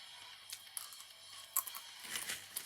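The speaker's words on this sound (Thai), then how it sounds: "พี่กินถั่ว กินถั่วอีกละ" Crunchy nuts being eaten close to the mic, with quiet scattered crisp bites and crackles, a sharper crunch near the middle and a louder cluster of chewing toward the end, no talk.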